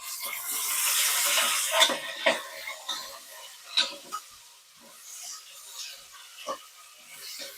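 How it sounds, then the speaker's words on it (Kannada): Tomatoes go onto golden-brown fried onions in a pan for a mushroom biryani, a sizzling rush fading as a spoon stirs and scrapes with several distinct clinks. "ಸೊ ಇವಾಗ ಟೊಮೊಟೊನ ಹಾಕ್ತೀವಿ."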